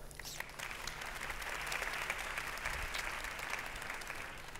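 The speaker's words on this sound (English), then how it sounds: "I think that's worth a first applause" Sustained applause from a conference audience at a LinkedIn talent event, a steady dense wash of clapping held at an even level throughout.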